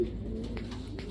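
Pigeons, a pair of Black Budapest and a pair of Kaldom birds offered by a street vendor, coo in a low continuous murmur, close and steady with a dense background hum.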